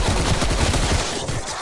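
Dense, loud automatic gunfire in the video game Call of Duty Cold War, a rapid unbroken burst of shots lasting under two seconds.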